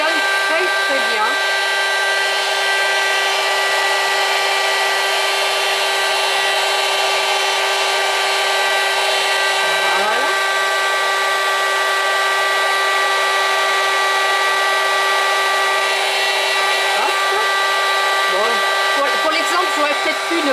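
A hot air tool blows steadily to heat glue, a loud, continuous whooshing drone with a constant pitch that runs unbroken throughout.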